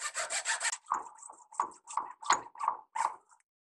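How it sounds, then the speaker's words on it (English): A small handsaw cuts a round wooden dowel rod clamped in a vise, heard as a quick burst of rapid short strokes followed by slower, evenly spaced rasping strokes, close and clear with no talking. "I've got a little handsaw here, and what I'm going to do is just kind of try and cut it in half"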